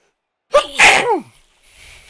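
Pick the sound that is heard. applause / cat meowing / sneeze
sneeze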